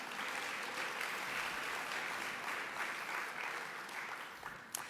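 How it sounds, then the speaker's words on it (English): An audience at the NOW National Conference claps in a sustained, even burst of applause that holds for several seconds and then begins to thin out. "Give yourself a round of applause."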